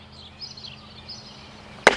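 A Lengren Dragon knife, a 6 mm thick Sleipner steel blade, splitting twisty knotty wood: after a quiet stretch of faint background rustle, one sharp, loud chop lands at the very end.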